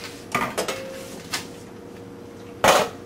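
Chow mein noodles being stirred in a pan, heard as several sharp clanks and scrapes of utensil against metal, scattered irregularly with a louder clatter near the end, alone without talk.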